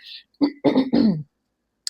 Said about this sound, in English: Excuse me, I'm trying to clear my throat.